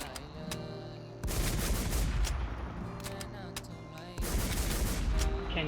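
Automatic gunfire in the online shooter WarZ: sustained rapid bursts with booming reports, loud and close, in two long strings separated by a short pause.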